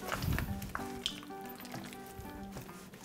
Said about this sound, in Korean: 기름 한 큰술. 네. 해서 튀기겠습니다.